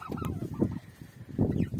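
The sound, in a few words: turkeys gobbling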